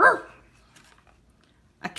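A single sharp dog bark at the start, followed by near silence and then a brief faint rustle, with no talk.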